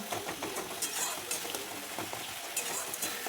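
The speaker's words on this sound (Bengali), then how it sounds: "ভালো করে কষিয়ে নেব তেল ছাড়া পর্যন্ত" Rohu fish kofta curry masala with sugar being sautéed until the oil separates, fried potatoes going in, a soft sizzle with scattered stirring scrapes, fairly faint and close.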